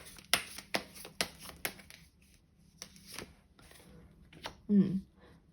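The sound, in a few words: shuffling and drawing tarot cards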